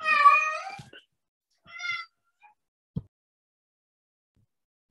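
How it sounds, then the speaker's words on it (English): A house cat meows indoors in a home-office setting: one long wavering meow, then a shorter second one, each fairly close and clear, followed by a few faint soft knocks in otherwise quiet surroundings. "I'm sorry for the cat."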